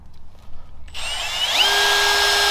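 A power drill bites into hardened 12.9-grade bolts on a broken plough on a farm: quiet handling at first, then the drill starts abruptly and whines steadily and loudly, with its pitch rising as it settles into a constant drone.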